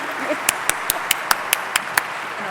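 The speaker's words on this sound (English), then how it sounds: "So give them another big clap. I'd like to give them a standing ovation." Conference audience at an author event in Las Vegas giving a standing ovation, with a run of sharp, evenly spaced claps standing out near the microphone over a low crowd murmur.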